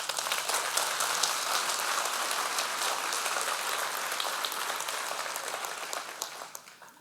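Members of a church congregation applaud one another, producing a broad, dense wash of many hands clapping that holds steady for several seconds and then tapers off near the end.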